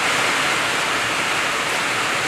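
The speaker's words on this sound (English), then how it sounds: "Now it's raining so hard" Heavy rain pours down steadily by a seawall construction site in Key Largo, a loud, dense, unbroken hiss that fills everything with no gaps.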